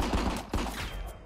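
A short burst of rapid gunfire in the video game RICO, a few loud, close shots fired in quick succession within about a second.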